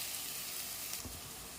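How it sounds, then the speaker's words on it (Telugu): Ginger garlic paste frying in a pan for a biryani, a steady, even broadband sizzle that carries on unbroken throughout, with no voices over it. "ఫ్రై చేసుకున్నాము."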